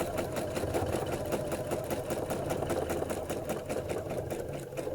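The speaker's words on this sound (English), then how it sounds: "And then I'm going to go back and sew the other side." Sewing machine stitching an embroidery block in steady running bursts, a fast mechanical whir and needle chatter held evenly throughout, close and moderately quiet with no voices.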